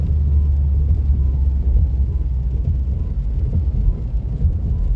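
Inside a car driving slowly in rain at about 25 mph, engine kept under 3,000 RPM, a steady, loud low rumble continues without a break.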